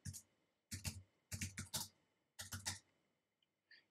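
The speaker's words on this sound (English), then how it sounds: "Name your scheme by typing in the Scheme Name text box." Fingers typing on a computer keyboard, close and crisp, with clustered bursts of rapid key clicks separated by short pauses and a couple of faint isolated taps at the end.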